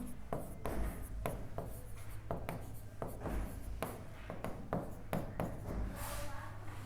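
Pen writing out a trigonometry solution on paper, close and steady scratching strokes with repeated short taps and pauses between words, under a faint background hum.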